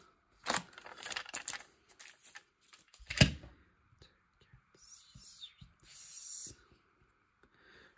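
Scissors cut through card stock for a handmade Christmas card in crisp, scattered bursts of rustling and snipping, with one loud sharp crack midway and a softer papery hiss toward the end.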